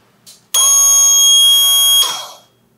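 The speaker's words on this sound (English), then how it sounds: "If the water level gets too high and this switch will engage the pump as well and sound off an alarm." A boat's bilge pump backup float switch alarm sounds: one loud, steady electronic buzzing tone lasting about a second and a half, preceded by a faint click, then ringing off into silence.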